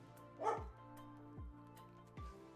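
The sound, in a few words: dog barking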